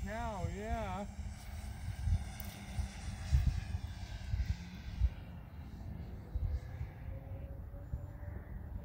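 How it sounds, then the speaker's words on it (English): A small jet aircraft passing overhead in an outdoor field, heard as a broad, steady roar with a slowly shifting whine. A person talks over it, and there is some wind noise. "I like that little jet. That's nice."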